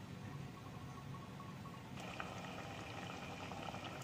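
A sardine fish curry simmers in a covered pot, giving a steady, soft bubbling hiss that stays even throughout with no talking.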